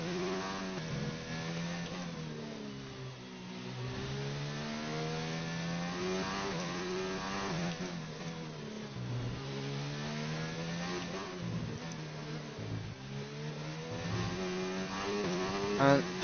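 A McLaren Formula 1 car in F1 2019 screams through a lap, its high engine tone climbing and dropping through gear shifts and corners, loud and continuous with no talking.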